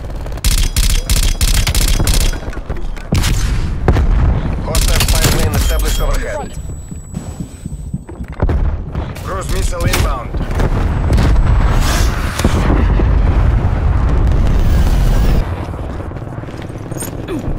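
Grenade blast and surrounding combat in Call of Duty: Black Ops Cold War, with loud heavy booms and rattling gunfire layered throughout a dense, continuous battle mix, with game voice callouts in between.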